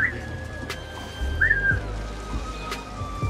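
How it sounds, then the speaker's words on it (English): Two drawn-out whistles from a player character in Assassin's Creed Mirage, the first a long steady tone and the second a brief rising-falling call, over low ambient background with faint clicks. "And then I'll whistle down here"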